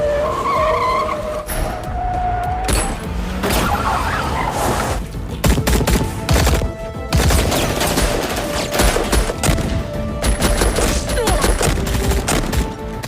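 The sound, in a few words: gunfire shootout in an Indian gangster film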